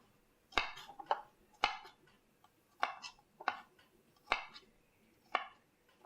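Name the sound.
chopping garlic and shallot into big chunks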